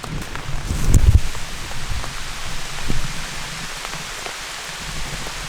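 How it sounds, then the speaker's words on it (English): Steady rain patters down on surfaces in the North Georgia woods with a constant hiss, plus a brief louder rustle near the start. No one speaks. "I don't know if you can hear it, but it's raining"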